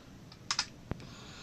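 A few quick keystrokes on a computer keyboard, close and crisp clicks in a quiet room, with no talking.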